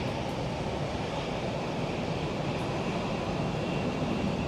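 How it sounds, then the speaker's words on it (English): An MD-11 airliner takes off at Phoenix Sky Harbor in stormy weather. Its engines come through as a steady, broad distant roar, mixed with wind buffeting the microphone. "That is an MD-11 taking off."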